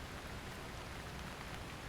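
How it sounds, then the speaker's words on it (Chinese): Rain falls in a dense, even hiss, faint and steady for the whole moment, with no voices or other sounds standing out. "没想到还真的下雨"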